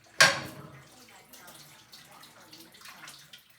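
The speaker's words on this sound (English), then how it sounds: "I'm just rinsing my hands off." Tap water runs into a kitchen sink as hands are rinsed after handling raw chicken on Thanksgiving, a close splash at the start that settles into a soft, uneven flow.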